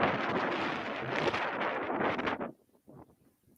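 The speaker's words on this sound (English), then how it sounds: "A windy afternoon here in Union Mills, Indiana." Wind buffets the microphone at an afternoon softball game in Union Mills, Indiana, with loud, rumbling gusts for a couple of seconds, then drops to quiet with a few faint puffs.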